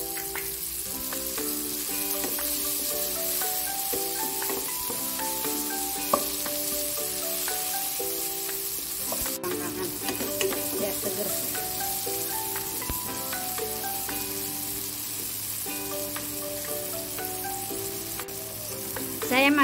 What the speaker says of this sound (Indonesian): Goreng bawangnya saya masukkan tomat.